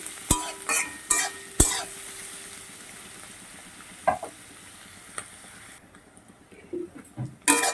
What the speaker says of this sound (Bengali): পেঁয়াজটা আমি এক মিনিটের মতো ভেজে নিয়েছি